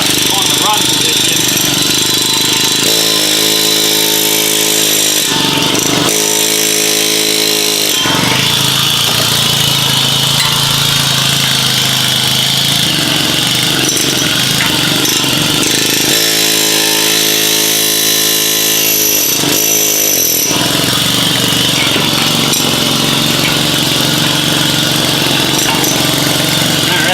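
A pneumatic air chisel hammers loudly in bursts on the fan clutch of a 2005 Dodge Dakota 4.7L, its rapid rattling chatter starting and stopping in a close, noisy workshop.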